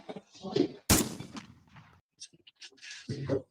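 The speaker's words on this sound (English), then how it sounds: "You hear that? The gunshot?" A single weak-sounding gunshot from a gun, a sharp loud crack with a short decaying tail, set between stretches of nearby talk.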